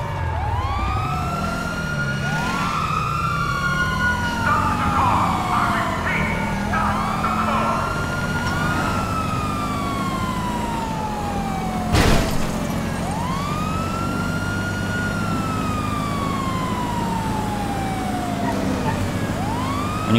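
A fire truck siren wails in Grand Theft Auto V, loud and continuous with repeated rising and falling sweeps over engine rumble, interrupted by a single sharp knock partway through.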